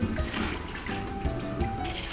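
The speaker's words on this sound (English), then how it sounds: "So we're going to rinse the beans." Dried beans being rinsed under a running kitchen sink tap, a steady close splashing water stream with light rattling and sloshing as the beans are stirred, no talking.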